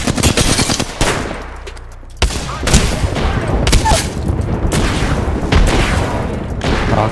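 Frag grenade explosions and rapid gunfire in the Apex Legends battle royale game, with loud bursts of automatic fire, heavy booms and sharp shots packed densely throughout.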